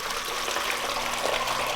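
Rinse water gushes from the pouring spout of a Ninja Slushi machine into a bowl, a steady loud splashing rush that fills the whole moment without pause.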